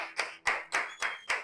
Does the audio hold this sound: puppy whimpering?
no